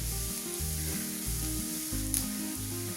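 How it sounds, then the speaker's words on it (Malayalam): Chicken pieces fry in hot spiced oil with a soft, steady sizzle. A spoon stirs them now and then with a few light clinks. Quiet background music plays underneath. "ഇനി ഇതിലേക്ക് നമുക്ക് ചിക്കൻ ചേർക്കാം. ഒന്ന് ഇളക്കി കൊടുക്കാം."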